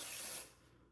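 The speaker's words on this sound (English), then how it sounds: "I am going to use my S3 spray" Aerosol holding spray hisses in one steady loud burst onto a quick weave bob hairstyle, then tapers off quickly to quiet.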